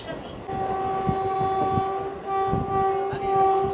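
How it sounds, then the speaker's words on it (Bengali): Purba Express passing behind a WAP-7 electric locomotive on the Barddhaman–Howrah chord line: a loud, steady horn tone held over continuous close rumble and wheel clatter from the passing coaches. "অ্যারোডাইনামিক ওয়াক 7 দিয়ে চলছে পূর্বা এক্সপ্রেস"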